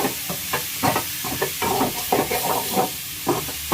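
Tomatoes soften and get stirred in a hot pan for Tamil fish curry, with a continuous sizzle broken by repeated scraping strokes of a spoon, close up and without voices.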